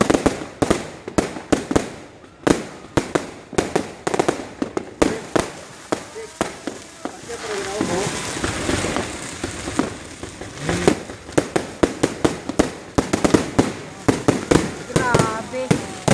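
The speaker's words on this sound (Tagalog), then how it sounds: "Nag-fireworks display talaga sila, oh." New Year fireworks display, with dense repeated sharp bangs and crackling bursts going off in quick irregular volleys throughout, some close and loud, while people talk and exclaim over the blasts.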